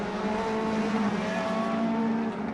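Race car engines howl in a DTM racing video game at the Moscow circuit as several cars battle closely, a steady loud droning whine of engines held at high revs with no gaps.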